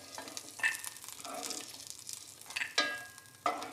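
Raisins frying in hot ghee in a pan for apple payasam, a soft crackling sizzle with short bursts of spoon stirring and scraping, close and fairly quiet.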